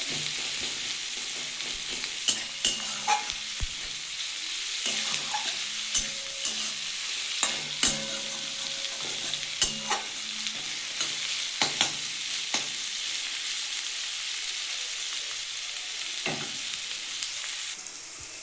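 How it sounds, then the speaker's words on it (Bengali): Thinly sliced onions fry in a pan while a spatula stirs and scrapes at irregular intervals, sharp clacks and scrapes over a soft, constant sizzle, close by with no voices. "একদম পাতলা পাতলা করে কেটে পেঁয়াজটাকে ভালো করে একটু ভেজে নেবো"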